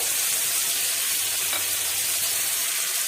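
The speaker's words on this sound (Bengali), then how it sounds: "অল্প জল দিয়ে মশলাটা কষিয়ে নেব" Spice paste with chopped tomatoes and green chillies, loosened with a little water, frying in a pan for a dhaba-style goat liver curry; a steady, close, soft sizzle runs alone throughout.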